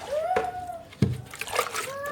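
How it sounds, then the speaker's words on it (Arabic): Water is poured and splashed onto a carpet for washing, in short sloshing bursts with a sharp splash midway, and faint voices nearby. "ونجيب ميه كده."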